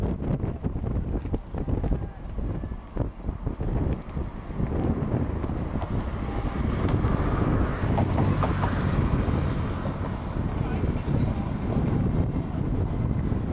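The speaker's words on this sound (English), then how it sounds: "Nice little headwind blasting right into them." A strong headwind buffets the microphone on a rowing race course during a school regatta heat, a loud, continuous, gusty rumble with water noise beneath it and no voices.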